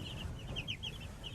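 Pastured chickens on fresh grass cluck softly in a short burst of several high, quick calls over a low outdoor rumble.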